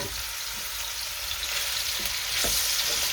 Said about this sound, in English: we're gonna go in with the beef which I dusted with the flour earlier